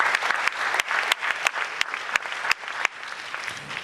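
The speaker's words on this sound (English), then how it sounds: "a round of applause for Kisangajani there." An audience at a renewable energy challenge event applauds, dense clapping with sharp individual claps standing out, sustained and fairly close throughout.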